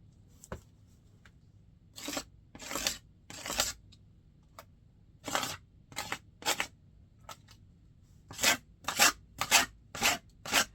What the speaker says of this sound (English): I'm scraping it over the areas where I have the texture